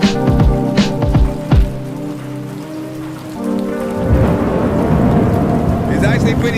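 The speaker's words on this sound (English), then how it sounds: "I couldn't hear you over the rain." Heavy rain pours steadily on a surface, loud and close, while deep rolls of thunder rumble through the first half and then fade into the continuous downpour.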